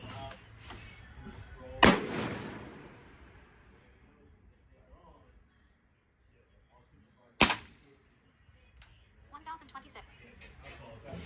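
A suppressed PTR 91 rifle fires subsonic rounds, giving two sharp, fairly loud reports several seconds apart, each with a short decaying tail, and someone talks quietly between them.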